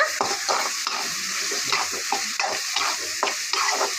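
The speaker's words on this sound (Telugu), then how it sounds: "ఉల్లిగడ్డ వేసి ఫ్రై చేసేస్తా" Onions fry in a hot pan on a home stove, a continuous loud sizzle with rhythmic scraping strokes of a spatula stirring through it, close up and with no talking.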